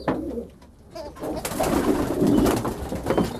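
Pigeons cooing inside a pigeon loft, a soft murmuring chorus of several birds, close and steady and swelling slightly toward the middle, with no talking.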